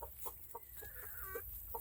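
Backyard chickens and a young rooster cluck softly and close by, short repeated clucks with a few longer warbling calls over a low hiss.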